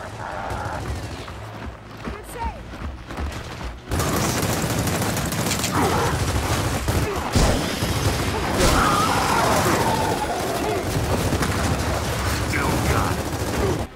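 Dense, continuous gunfire and combat noise from the video game Gears of War break in suddenly after a quieter opening and keep rattling loudly to the end.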